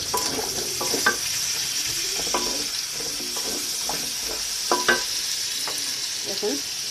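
Pointed gourd (potol) pieces fry in oil in a pan, making a continuous close sizzle broken by irregular stirring scrapes and light clinks of the utensil against the pan.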